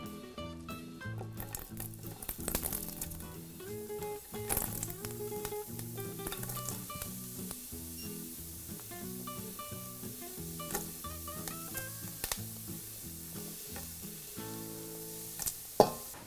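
Steady sizzling and crackling of bell peppers searing in a very hot pan, continuous hiss with sharp pops throughout, close up.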